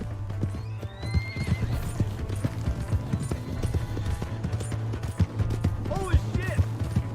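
A horse in Red Dead Redemption 2 clip-clops in a steady gallop, hooves thudding under a low engine-like drone, and neighs with a rising whinny near the end, while voices talk over the action.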